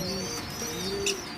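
A racing pigeon coos softly and steadily inside a loft, a low, close murmur with a brief higher chirp near the end.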